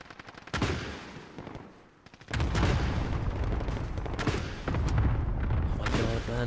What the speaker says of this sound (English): those fucking akimbo shots